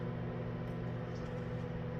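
A microwave oven runs steadily while heating mac and cheese, a continuous low mechanical hum with a fan-like whir, constant in level and close by, with no talking.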